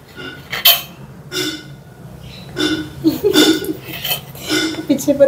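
A pet parrot in a home kitchen rattling and knocking the lid of a clay pot, a series of sharp clinks and clatters in irregular bursts, growing busier toward the end.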